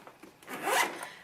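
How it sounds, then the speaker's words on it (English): A zipper is pulled open along a seafoam green MIMCO toiletry bag in a single close, rasping sweep that builds and then eases off, heard alone in a quiet room. "it opens up like so, and then you have two zipper compartments there"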